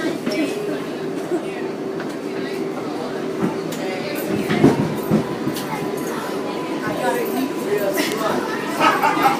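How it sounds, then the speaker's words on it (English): Manhattan-bound 6 subway train running through a New York tunnel, a steady rumble and rattle under constant passenger chatter, with occasional clanks and squeals. "This is a Manhattan-bound 6th train."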